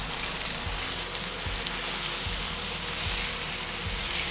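Chicken pieces brushed with butter sear on a hot griddle with a steady, close sizzle and crackle, low pops scattered throughout and no talking.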